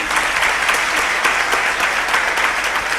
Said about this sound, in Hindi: जोरदार ताली बजाएंगे सभी।